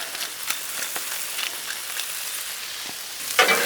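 Seasoned steak and mushrooms sizzle on a Blackstone griddle with a soft, even crackling hiss, dotted with small pops. A louder scrape of mixing comes near the end.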